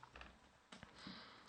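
Faint keyboard typing as an IP address is entered on a computer: a few scattered soft clicks and taps in a quiet room, with a sharper click near the end.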